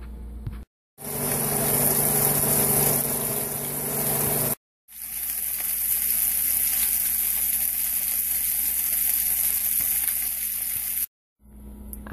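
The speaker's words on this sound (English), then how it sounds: "And I'm going to start pan frying it." Marinated chicken sizzles in hot oil in a pan, a steady loud frying hiss that runs in long unbroken stretches, cut by a couple of brief silent gaps.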